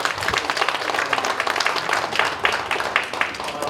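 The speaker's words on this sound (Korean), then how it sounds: "큰 박수 한번." Audience applause at a policy debate forum on rural industrial complexes held at the National Assembly, a steady wash of clapping filling the hall for the whole stretch.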